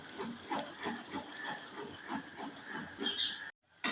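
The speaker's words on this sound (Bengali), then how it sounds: "এরপর দিয়ে দিচ্ছি একটা ডিম" An egg frying in a pan of hot oil sizzles and crackles steadily at close range for about three and a half seconds, then cuts off abruptly.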